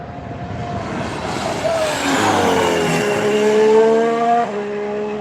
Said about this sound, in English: Mercedes is so loud on power.